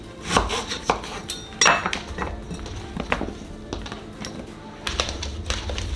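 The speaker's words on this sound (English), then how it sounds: "let's go ahead and cut up some of these apples. I feel like I just want to cut them in half." A knife chops through apples on a kitchen surface, giving several sharp cutting taps and thuds at an irregular pace, close and fairly clear, with no talking.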